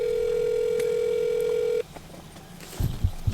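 A telephone call to a sheriff's cell phone, with a steady dial or ring tone sounding alone for nearly two seconds, then cutting off to a quiet line before a voice begins.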